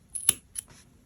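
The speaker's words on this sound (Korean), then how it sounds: "실을 좀 한 여유 있게 마무리 지을 수 있게 한 4, 50cm 정도 남겨두고 잘라주세요." Scissors snip through knitting yarn while finishing a checkered knitted winter beanie: two crisp, close cuts about a quarter second apart, quiet and with no talking.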